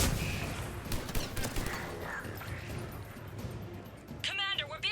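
Shotgun blasts and rapid gunfire sound in a Mass Effect 3 battle, a fast cluster of sharp bangs in the opening seconds that fades into background combat noise with voices over it.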